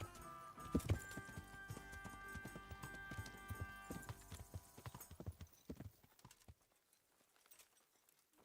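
Horse hooves clip-clop at a steady gallop in Kingdom Come: Deliverance, mixed with tonal game music; the hoofbeats run for about six seconds, then fade into near quiet.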